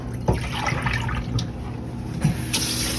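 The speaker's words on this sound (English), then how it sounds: "I'm going to dump out my bucket for my sink." Water from a sink bucket pours out and splashes into a drain in a dental sterilization area, a continuous rushing gush with a few louder splashes.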